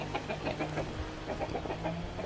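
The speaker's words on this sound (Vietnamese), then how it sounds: "một đàn gà đầy, gà rất là ngon, thịt luôn" A flock of chickens in a rural highland village clucking close by, with overlapping irregular clucks and murmurs forming a continuous busy chatter and no talk over it.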